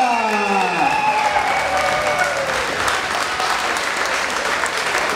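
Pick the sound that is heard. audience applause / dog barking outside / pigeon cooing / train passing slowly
audience applause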